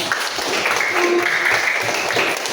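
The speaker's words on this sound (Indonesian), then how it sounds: "Tepuk tangan dulu untuk Enok." Applause from a class of pupils, a brief patter of many hands clapping steadily, fairly close, lasting a couple of seconds with no talk over it.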